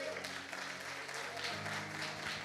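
Church congregation clapping for Jesus during a sermon, a fairly quiet, continuous patter of many hands with a low hum and faint voices underneath.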